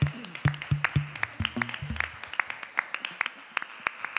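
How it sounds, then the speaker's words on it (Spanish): A church congregation claps during a Sunday worship service, a fairly close run of sharp, irregular hand claps that starts brisk and thins out over a few seconds. "Dale un aplauso fuerte al Señor."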